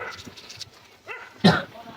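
A dog barks once sharply, mid-distance, after a softer yelp-like call, with human voices murmuring in the background.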